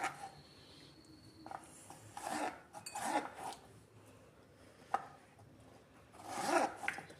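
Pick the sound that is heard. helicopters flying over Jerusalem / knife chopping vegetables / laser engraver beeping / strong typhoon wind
knife chopping vegetables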